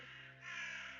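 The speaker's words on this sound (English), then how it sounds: "we can hear the crows calling." A single drawn-out crow caw plays as a tabletop game sound effect for an evening farmstead scene. It is soft and slightly distant over a low background hum.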